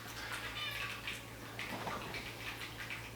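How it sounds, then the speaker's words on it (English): A cat gives a few soft, faint meows over a steady low hum in a quiet room. "Meow."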